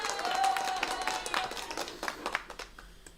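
A woman claps her hands for her own applause after a joke, a few sharp claps in a quick uneven run that thins out toward the end, fairly close and mixed with light background noise.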